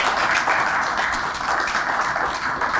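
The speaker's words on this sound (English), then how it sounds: "So let's give Matt and his team and Isaac and your team another round of applause." Audience applause at a surveyor celebration event, a dense steady wash of many hands clapping that holds evenly throughout, fairly loud and without voices on top.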